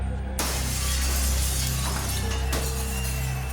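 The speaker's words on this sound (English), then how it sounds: "Window after window was shattered in stores and boarding houses" Store and boarding-house windows smashed by a rioting mob, a sudden loud crash of shattering glass followed by a sustained rain of breaking shards and tinkling debris.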